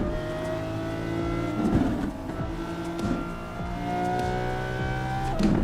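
Lamborghini Aventador with a 6.5-litre naturally aspirated V12 in the BeamNG driving game, a steady high engine drone with shifting pitch and brief tire-squeal bursts, continuous and fairly loud.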